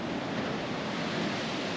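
Six-foot ocean waves surf off a Hawaiian beach facing Oahu across the Kaiwi Channel, a continuous broad roar of breaking water with wind noise and no voices.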